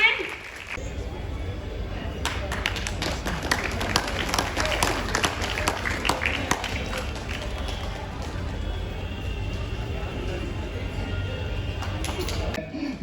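A crowd claps at a craft fair closing ceremony, a sustained round of fairly distant applause lasting several seconds, with a voice speaking over it.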